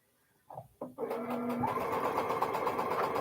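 A sewing machine stitches an Elizabeth Hartman quilt block, starting with a couple of short knocks before settling into a steady, fast whirring run, close and moderately loud.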